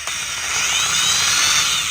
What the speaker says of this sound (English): Now that that's marked, we're going to drill these holes.